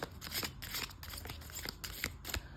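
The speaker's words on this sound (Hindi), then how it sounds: "आप कुछ इस तरह से शफल कर सकते हैं कार्ड्स को।" Tarot cards being shuffled by hand, a run of crisp papery riffles and flutters repeating in quick bursts, close and fairly quiet with no talking.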